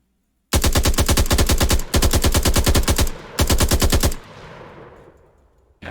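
Sustained automatic gunfire from a third-person shooter video game in development, loud rapid bursts firing in three long stretches separated by brief pauses, then trailing off into a fading echo with no talking.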